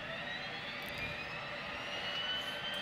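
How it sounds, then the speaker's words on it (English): The left engine of an aircraft starting up in the X-Plane 11 flight simulator, a steady whining hum with rising tonal whine held evenly and close throughout, no talk. "we're going to start up our engine on the left"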